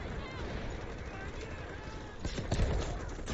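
Gunfire in the video game Delta Force, a dense run of rapid shots and bursts in a co-op match, with louder cracks near the end over constant game noise.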